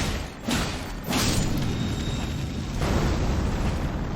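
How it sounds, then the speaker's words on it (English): Scarab creature exploding in the video game Elden Ring in the Altus Plateau, heard as a loud, broad rumbling blast that swells in waves and sustains for several seconds. "Didn't expect explosion."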